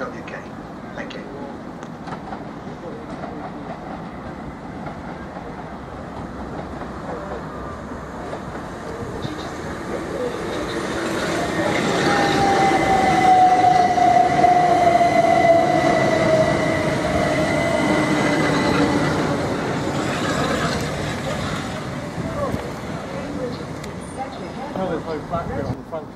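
A train at Chichester railway station platform, its steady rumble swelling in the middle with a brief wheel squeal, while a platform announcement plays over it.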